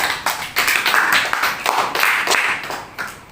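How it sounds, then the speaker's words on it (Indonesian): Students in an Indonesian school classroom clap together after a group presentation, a moderately close burst of hand claps that rises and falls in uneven waves for a few seconds. "tepuk tangan untuk semuanya"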